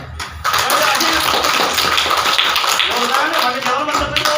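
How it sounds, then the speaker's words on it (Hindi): A group claps hands together at a village community gathering, a loud, dense stream of overlapping claps with some voices mixed in. "बिल्कुल ताली बजाओ"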